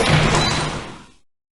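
Large double doors to an abandoned city council chamber swing open, a single heavy, close creaking thud that fades out over about a second.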